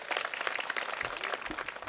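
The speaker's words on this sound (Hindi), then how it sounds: "तो इनके लिए ज़ोरदार तालियां बजा दो यार भाई" A short burst of audience applause at a mushaira poetry gathering, a dense patter of many hands clapping fairly faintly, as if heard from some distance.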